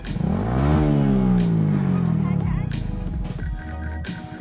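Motorcycle engine revving hard, a loud close roar that climbs and falls in pitch, then settles into a rougher idle while a bell-like chime rings near the end.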